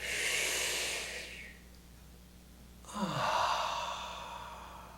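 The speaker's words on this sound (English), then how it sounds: "take a nice deep breath" One slow, deep breath drawn in and then let out, soft and close, two airy swells separated by a brief quiet pause.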